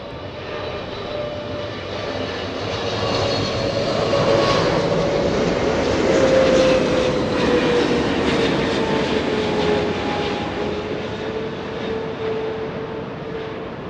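A Delta Boeing 777 heavy airliner lands on runway 24 right at Los Angeles International Airport, its jet engine roar swelling steadily and holding for over ten seconds, loud and continuous with a slowly shifting whine.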